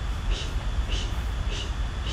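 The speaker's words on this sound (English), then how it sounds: "So this breathing is like blowing out a candle." Forceful breaths out through the mouth, like blowing out a candle, repeat in a quick steady rhythm of about four puffs during yoga breathing practice, close and breathy over a low rumble.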